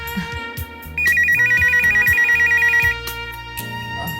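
A telephone rings with a rapid warbling trill lasting about two seconds, loud over background music.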